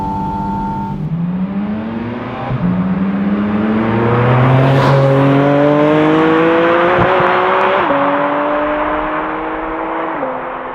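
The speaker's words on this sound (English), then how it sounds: "This car has just the best engine sound ever." A Porsche Spyder RS engine revs loud and close, climbing through several gears in rising, melodic sweeps with brief dips at each shift over about ten seconds.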